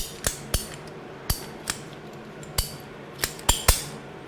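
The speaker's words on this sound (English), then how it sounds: "I just use these like pipe cutters." Pipe cutters snip through a non-reinforced rubber oil cooler hose on a Toro Z-Master mower, giving about nine sharp, close clicks at irregular intervals over a quiet background.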